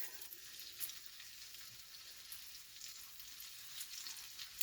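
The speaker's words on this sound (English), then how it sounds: "I'm just going to get a sear on these." Seasoned pork chops searing in a pan give off a faint, even sizzle that runs steadily throughout, with no voices over it.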